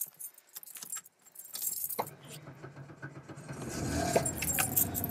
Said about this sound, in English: Now we're about to start the truck.